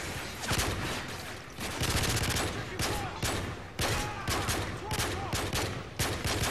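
Sustained gunfire rattles through a Modern Warfare 3 firefight, with dense overlapping bursts and loud cracks, continuous and close throughout.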